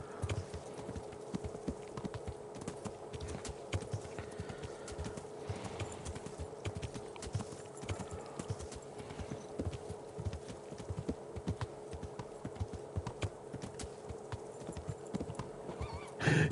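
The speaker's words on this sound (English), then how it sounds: "Yes, this horse is really slow." Continuous, even clip-clop of a horse's hooves at a slow walking rhythm in the video game Kingdom Come: Deliverance on PS5, steady and moderately quiet throughout, with a faint hum beneath.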